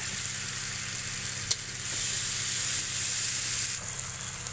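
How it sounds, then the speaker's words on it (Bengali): Poppy seed paste dropped into hot oil for a Bengali fish curry sizzles and hisses steadily, with one sharp click early on, close and fairly loud with no talking. "দিয়ে দেওয়া হচ্ছে পোস্ত বাটা তেলের উপরে"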